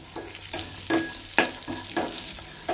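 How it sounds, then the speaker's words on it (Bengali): Potatoes and pointed gourd fry in oil in a home kitchen. A soft sizzle is broken by several distinct scraping stirs, heard up close and fairly quiet. "আলু আর পটলটা ভেজে নিচ্ছি"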